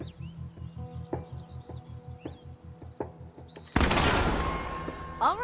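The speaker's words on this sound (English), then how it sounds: "This is a shotgun." A shotgun is fired in The Quarry, with one sharp, loud blast that cuts in after a stretch of soft rhythmic ticking and chirping ambience. The blast then rings out and decays.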